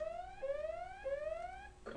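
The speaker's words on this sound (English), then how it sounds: "Okay, sorry about that alarm." An electronic alarm sounds in repeated rising tones, three sweeping beeps in steady rhythm with layered harmonics, fairly clear and alone with no talk over it.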